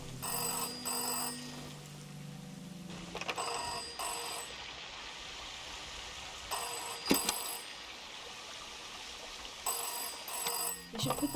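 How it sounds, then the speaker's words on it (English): A telephone in a video game rings in repeated bursts with quiet gaps between them, clear and fairly loud against a low background. "You should put the voice in the ringing sound."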